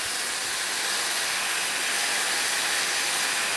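Lion's mane mushroom searing in a cast iron skillet under the weight of a second pressed cast iron skillet, a steady, even hiss and sizzle close up, with no talk.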